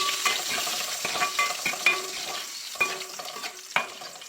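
Dried fish fries in hot oil in a pan, a constant crackling sizzle broken by several sharp clinks and scrapes from stirring, close-up with nobody speaking.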